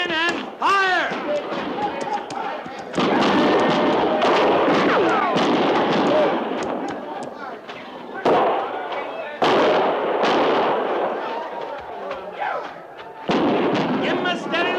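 A frontier battle at Fort Laramie in a 1956 radio drama, with rapid cracking gunfire and bursts of shots ringing under excited shouting voices, the firing coming in waves with brief lulls.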